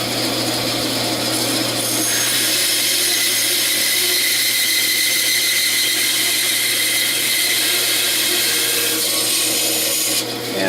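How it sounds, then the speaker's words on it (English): 12-inch bandsaw with a 1/4-inch blade cutting relief notches in wood, a steady whining hum with a rasping cut that softens and returns, close and continuous. "And this is a 12-inch bandsaw with a 1/4-inch blade."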